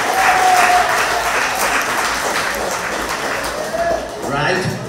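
Crowd at a junior calypso finals applauds the contestants, a loud, sustained wash of clapping with a voice talking over it and a slight swell near the end.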